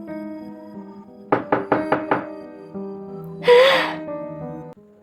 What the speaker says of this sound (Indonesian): itu adalah suara ketukan di pintu kamar kosnya